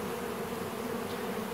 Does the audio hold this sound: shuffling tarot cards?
no